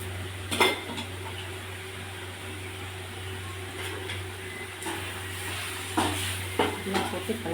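Spoon scraping and clinking in a pan while prawn thokku masala with garam masala is stirred, soft sizzling beneath and a steady hum behind; several sharper metallic knocks stand out near the start and end.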